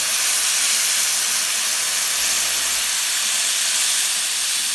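Steady, loud hiss of pressurized steam jetting continuously onto coils, a broad airy rush that holds constant without pause.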